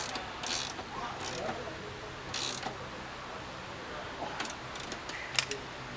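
Bolts on the control arm bushings of a 2017 Passat being tightened with a ratchet: quiet bursts of rapid clicking separated by pauses, close up, with faint handling noises and no talking.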